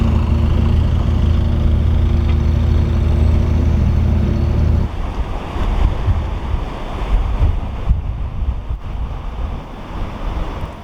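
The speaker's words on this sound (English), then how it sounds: "It started to get really windy" Strong wind sweeps across the Grand Union Canal, loud rushing gusts buffeting the microphone after a steady boat engine drone cuts out partway through, the roar rising and falling in uneven waves.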